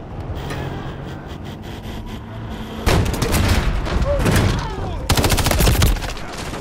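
Rapid gunfire bursts from a Ground War match in the Modern Warfare 3 beta on Xbox, dense automatic shooting and explosions layered over a noisy battlefield bed, loud and continuous, with voices underneath.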